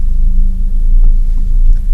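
A manual-transmission car creeps forward as the clutch engages without any gas, its engine giving a steady, close, low idling rumble throughout.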